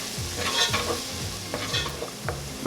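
Pepper and melting butter are stirred in a pot for vegetable soup, with a spoon scraping in repeated strokes over a steady close sizzle.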